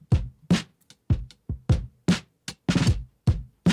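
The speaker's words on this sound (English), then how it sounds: "The original drum loop sounds something like this." Original unprocessed drum loop for glitchy granular drum sample work: punchy kicks and bright snare and hat hits in a steady, loud rhythm, about eight strikes in under four seconds, heard alone with no talking.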